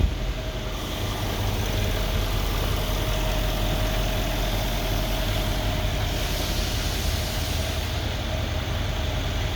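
A 2012 Mercedes E63 with a rebuilt engine idling while it warms up, a loud, steady, low drone that holds even throughout.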